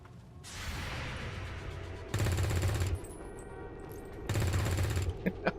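Two bursts of rapid automatic gunfire in XCOM 2, each about a second long and loud, with a whooshing lead-in before them and a few sharp single clicks near the end.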